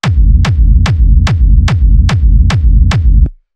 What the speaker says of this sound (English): All right, so the first thing we got going on is the kick. We're at 146 BPM.